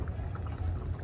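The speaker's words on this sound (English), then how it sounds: "I'm gonna add a little bit of cold water" Cold water pours steadily into a bowl of cornstarch, a continuous low liquid splash lasting about a second with no voices.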